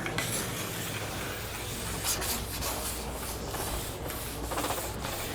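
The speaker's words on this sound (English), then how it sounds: "clamp it into your side edge angle and then go down the sidewall" A side edge angle file rasps down the sidewall of a clamped ski, giving a steady, close scraping rub with repeated strokes and no talk.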